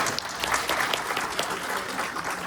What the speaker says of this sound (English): Let's give all these team leaders a big round of applause.